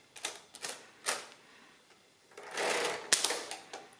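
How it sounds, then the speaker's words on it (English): The crank of a Rheinmetall D IIa mechanical calculator is turned, giving a series of close mechanical clacks and whirring ratchet bursts, irregular in spacing, with a longer grinding run near the end and a sharp click. "So if you now turn the crank, the input gets added to the register."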